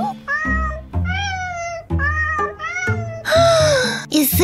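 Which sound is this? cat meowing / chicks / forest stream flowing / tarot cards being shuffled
cat meowing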